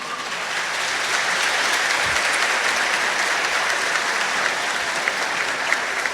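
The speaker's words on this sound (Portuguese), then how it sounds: "Uma salva de palmas para ele." A congregation in church applauds during a Catholic homily honouring a couple's 50th wedding anniversary; the clapping is dense, even and continuous from start to finish.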